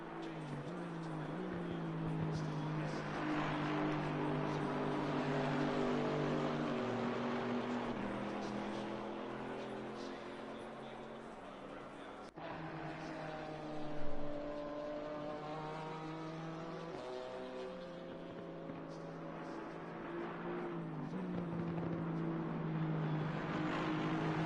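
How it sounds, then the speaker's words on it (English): GT4 racing cars lapping Silverstone in a sim racing game during an endurance race, with several engines droning and shifting pitch continuously as they pass, one brief knock midway, and faint talk underneath. "as we just sit back and just enjoy the sounds of these cars"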